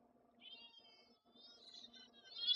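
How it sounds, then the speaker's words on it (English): A cat meowing in short, faint, plaintive calls, two or three rising cries over a quiet background, growing a little louder toward the end. "What is that sound? That's my cat."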